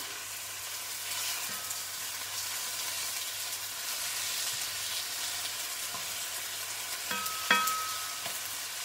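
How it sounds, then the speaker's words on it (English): Pork belly searing in a pan for a braised Chinese casserole, a continuous bright sizzle and crackle up close, with a few utensil scrapes and clinks near the end and no voices. "I'm just going to let that sear. Move it around a bit."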